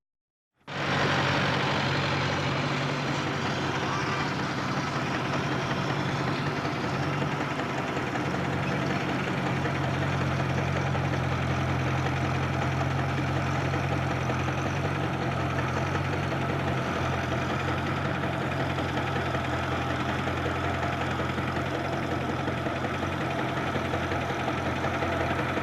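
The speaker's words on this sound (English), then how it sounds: "Every make of tractor makes its own distinctive sound" Tractor engines idling in a field on frozen ground, a steady close rumbling drone with a slight knocking beat that holds without a break for over twenty seconds, no voices.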